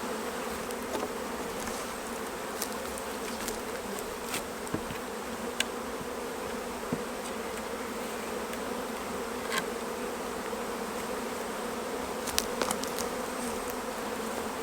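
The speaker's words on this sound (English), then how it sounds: "masses of bees that are trying to get in the entrance below" Masses of honey bees at a hive entrance make a dense, continuous buzzing drone, close and steady, with occasional louder individual bees passing near and no voices.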